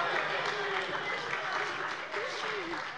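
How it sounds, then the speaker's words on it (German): Dense, steady applause from a large audience in a parliamentary plenary session carries on throughout without a break, a faint voice barely audible underneath. "ich kriege ja auch so Applaus offensichtlich"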